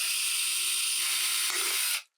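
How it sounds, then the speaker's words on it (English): A power drill bores a hole through a plastic bottle, giving a loud, steady, close whine for about two seconds before it cuts off abruptly. "Change your drill bit out from 1/8 inch to 1/4 inch, and widen the hole."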